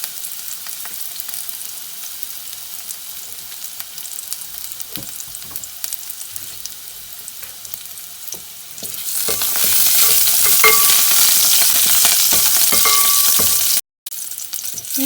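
Garlic dropped into hot vegetable oil in a pan for a chicken soup bursts into a loud, steady sizzle after a quiet start with light stirring clatter, frying close up with no voice.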